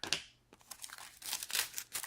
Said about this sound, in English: doesn't want to open. I use my scissors.